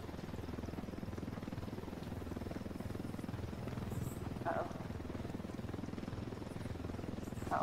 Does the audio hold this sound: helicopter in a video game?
yes